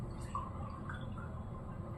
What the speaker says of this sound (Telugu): ఫస్ట్ వాటర్ వేస్తున్నా చూడండి